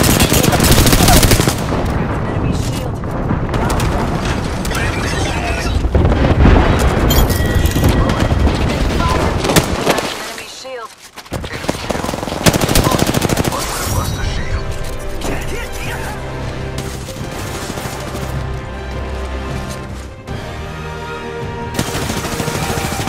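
Rapid, loud Apex Legends gunfire in a ranked match, with dense bursts, booms and impacts over about twenty seconds, one short gap near the middle, and voices talking over the shooting.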